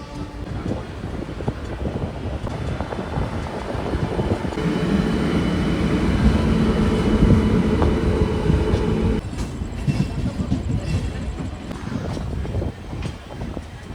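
Tamralipta Express from Digha pulling into Howrah station, a steady rumbling train with wheel clatter that swells toward the middle and eases off near the end, heard alone without voices.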